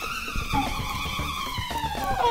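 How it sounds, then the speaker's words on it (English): A hex nut whirls inside an inflated balloon, making a loud, continuous buzzing whine that drifts slowly downward in pitch and holds steady for the whole stretch, with no voices over it. "If you want it to make more noise, you can use a hex nut."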